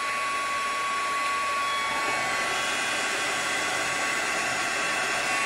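Heat tool blowing hot air to dry thin craft pieces, giving a loud, steady whooshing roar with a constant whine that continues unbroken throughout.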